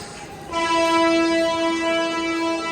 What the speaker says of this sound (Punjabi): ਪੌਣੇ 5 ਗਈ ਟ੍ਰੇਨ